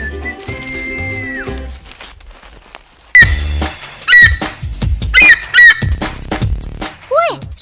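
Shrill, piercing eagle screeches ring out in several bursts with sharp rising and falling pitch, loud and close, following a stretch of steady tonal background noise.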